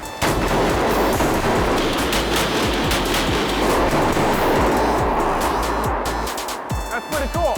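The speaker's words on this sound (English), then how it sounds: "these guys also have some really fun tactical shotguns to shoot. So this is the DP-12." Rapid shots from a DP-12 double-barrel pump tactical shotgun at an indoor shooting range, loud and dense through most of the stretch with echoing reports, tapering near the end.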